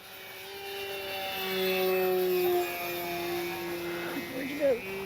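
An E-flite Sportix 1.1m RC airplane flies overhead on a warm day, its electric motor whine rising and falling in pitch as it maneuvers, steady and moderately distant, with people talking nearby.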